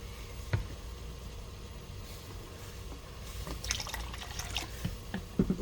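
Jujube mirin pours into a measuring cup in a soft, continuous trickle, quiet and close, with a few small drips and clinks toward the end.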